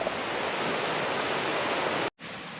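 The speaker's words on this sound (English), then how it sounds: "Can you hear the water?" River water rushes steadily near Aber Falls in Wales as a loud, even hiss close by. The flow continues alone and cuts out briefly near the end before resuming.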